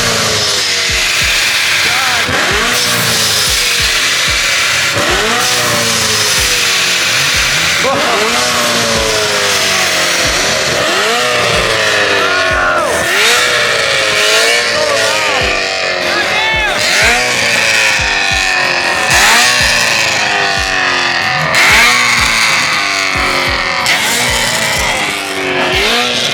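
A supercharged Ferrari engine revs hard again and again, each loud climbing sweep carrying a whining supercharger, with voices chattering beneath.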